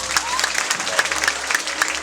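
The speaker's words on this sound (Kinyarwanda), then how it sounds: "Komera Imana amashyi menshi." A church congregation at a Friday prayer service claps together in a brief, dense round of applause, loud and close, with a voice faintly heard over it.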